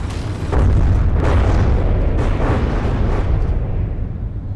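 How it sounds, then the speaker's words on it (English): Rocket explosions tearing a ship apart in the game From the Depths, a series of heavy booms rolling into one another over a sustained, loud, rumbling roar. "Just a few rockets to it and it's gone."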